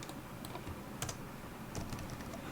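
Soft typing on a computer keyboard during Selenium coding work, a quiet run of scattered key clicks with brief pauses, heard close and alone.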